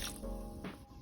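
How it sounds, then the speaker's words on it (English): Water is poured onto washed rice for an Indian meal, giving a brief close splashing trickle with no talk. "just add 2 cups of water."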